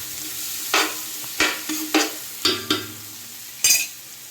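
Onions frying in a pan for chicken fried rice: a constant sizzle with about seven distinct spatula scrapes and stirs at uneven intervals, close and fairly loud.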